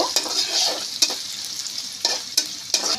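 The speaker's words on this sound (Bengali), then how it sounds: "পেঁয়াজটাকে দিয়ে আমি বাদামি কালার করে ভেজে নিব" Chopped onions sizzle in hot oil while they brown for haleem, a bright continuous frying hiss broken by a few sharp stirring scrapes of a spatula against the pot.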